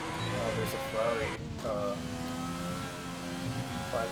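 A Ferrari race car engine revs and accelerates on the Australia circuit in a racing game, a steady droning whine under continuous commentary talk.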